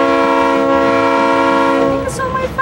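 A loud, sustained horn from a Vitória-Minas Railway train blares with steady tonal harmonics for about two seconds, then cuts off into rumbling rail noise.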